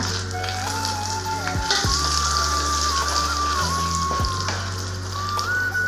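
Dried red chillies and lentils fry in hot oil for a pirandai chutney, giving a steady close crackling sizzle with a faint whistling tone in the background and no talking.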